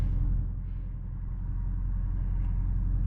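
A Dodge R/T with a 5.7 Hemi V8 rumbles steadily at a red light, a low constant engine drone heard from inside the car, with no clear rise in revs.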